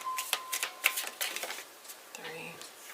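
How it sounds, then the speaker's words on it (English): Quick papery riffles of tarot cards shuffled up close, several bursts in a row, followed by a brief faint voice-like sound at the end. "3 shuffles."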